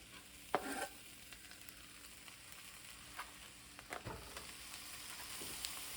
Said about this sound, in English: Next, I like to make room in the pan before adding in the garlic and the turkey.